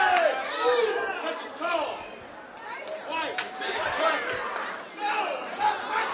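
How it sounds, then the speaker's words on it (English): A crowd roars and murmurs during a sudden-death fist-and-feet fight, a busy, fluctuating swell of cheers and chatter with a commentator talking over it. "listen to that crowd"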